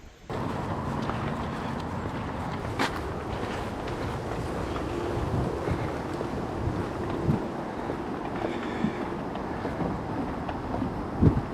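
Wind buffets the microphone in a steady, heavy rumble at a lakeside in Nova Scotia, continuing throughout with a few louder gusts and no talking.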